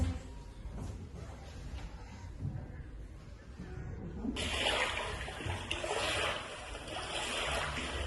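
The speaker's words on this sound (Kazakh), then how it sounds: "Бұл теңіздің шуылы." Recorded sea noise plays as a steady watery wash that grows fuller and louder partway through, with no talking.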